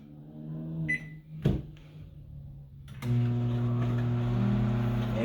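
Microwave oven cooking eggs: a few clicks and a door thump, then the oven starts with a steady loud electrical hum and whir that carries on to the end, no voices.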